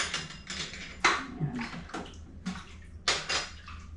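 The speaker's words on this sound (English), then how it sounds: "Let this water out." Water drains from a basin in a home kitchen in short, splashy gurgling bursts, close and fairly quiet, with small pauses between surges.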